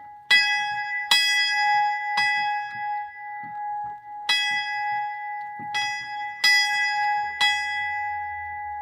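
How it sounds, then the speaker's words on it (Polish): A bright metal church bell struck repeatedly at an uneven pace, each clang ringing out and sustaining, loud and close with no talking, at an open-air museum in Wdzydze Kiszewskie, Poland. "Pani nauczycielki dostaliśmy pozwolenie zadzwonienia dzwonkiem."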